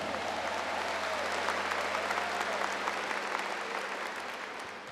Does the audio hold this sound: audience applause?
yes